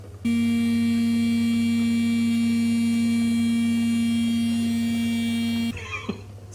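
A blender running on ground pasture steak gives a steady loud droning motor whine with strong hum, starting abruptly and cutting off after about five seconds, followed by faint handling noise.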